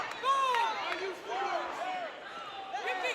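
Upset home crowd at Whitefield Academy in a high school basketball semifinal against Wheeler, a steady roar of many voices with rising shouts and jeers filling the arena throughout.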